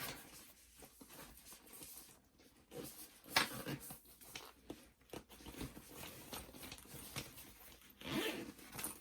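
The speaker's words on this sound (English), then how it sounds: "Zip that up." A zipper being zipped closed on a handmade sewn fabric bag, with a few short rasping pulls, close and fairly quiet, among light handling rustles.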